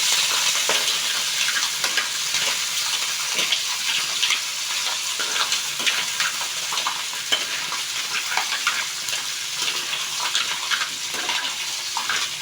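Mussels sautéed with ginger, onion and garlic, stirred in a pan for a soup, a continuous close wet sizzle with frequent scraping clinks of the spoon throughout, no talking.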